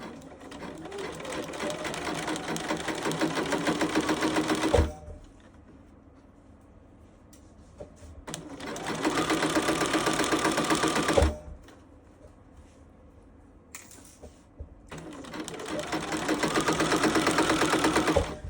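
A sewing machine stitches a blazer's side front to its centre front in three sustained rapid-chatter runs, close and loud, separated by quieter pauses with faint handling of fabric.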